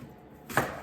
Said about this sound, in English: we need to cut these apples